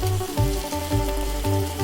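Onion, ginger, chilli and curry leaves sizzle in hot oil as a tempering for bun dosa, a steady loud crackle with rhythmic scraping or stirring strokes repeating across it and no talk.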